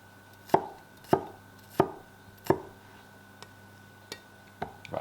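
Garlic chopped with a knife on a cutting board, four firm evenly spaced chops followed by several lighter taps, close and clear with no talking.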